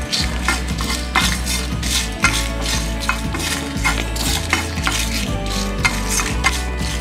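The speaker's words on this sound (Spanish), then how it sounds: "Vamos a dorar así, poquito, que no se nos queme porque se nos amarga nuestra salsita." Dried chilies toasting in a pan for a red pork-rib sauce, with steady clinks and scrapes of a utensil stirring against the metal over a continuous background clatter, close and fairly loud with no talk.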